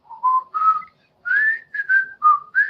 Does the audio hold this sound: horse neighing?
no